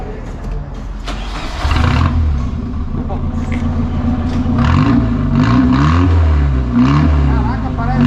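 Car engine fitted with an Alpha X1 muffler starts and revs up close by, a rough, rumbling idle rising into several throaty revs, with people talking over it.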